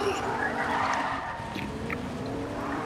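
A car drifting in a basketball roleplay video game, its tires skidding in a steady, sustained squeal under a continuous engine drone, with voices talking over it.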